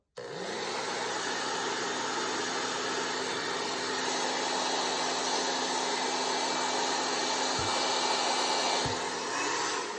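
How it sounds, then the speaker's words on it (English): A hair dryer on its cool, low setting runs steadily at a low, even whir from start to finish, close to the microphone, with two faint clicks near the end. "we're gonna put our hair dryer on cool and on low"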